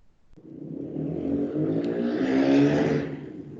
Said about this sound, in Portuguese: Ih, alguém pegou a moto e foi embora.